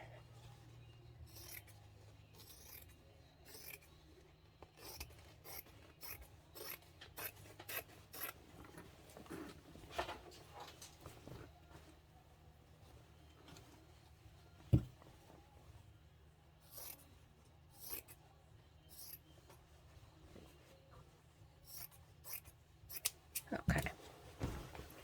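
Scissors cut through Amazon padded envelope packaging for a craft journal cover, giving repeated close snips and rasping scrapes in irregular bursts over a quiet background.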